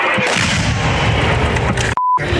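Artillery shell impact nearby on the left bank of the Kherson region near Krynky, a loud, sustained roaring blast filling the whole moment, then cut by a short electronic bleep tone.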